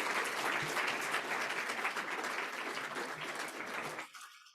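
An audience at a student design awards event gives a sustained round of applause, dense and steady for about four seconds before it stops abruptly into quiet.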